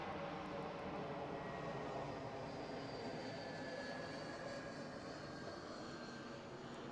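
Airplane engine roaring overhead, a broad steady rumble with a faint rising whine, fairly distant and constant across the span with no talking.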